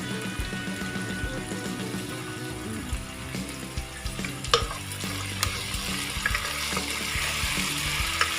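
Vegetables with salt fry in a pot for fried rice, a continuous sizzle broken by stirring clatter and a few sharp knocks of a spoon against metal.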